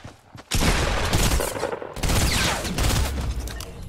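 Gunfire in a Fortnite match: loud, sustained bursts of rapid shots that fill the clip after a brief quieter start, with only a short break partway through.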